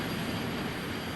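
A flight-simulator airliner rolls out on the runway with a steady, broad engine and rolling roar that holds an even level and fades slightly as it slows to a stop.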